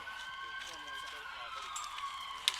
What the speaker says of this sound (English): Now the sirens from the rescue squad across the street start out early